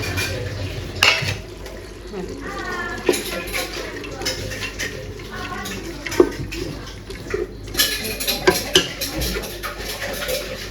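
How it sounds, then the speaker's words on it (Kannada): Washed green peas are tipped into a cooking pot for tomato bath, giving a wet rattle and clatter with spoon-against-metal stirring clinks, close up, under a voice speaking Kannada. "ಇವಾಗನೇ ಬಟಾಣಿ ಕೂಡ ಹಾಕ್ಕೊಳ್ತಿದ್ದೇನೆ ನಾನು."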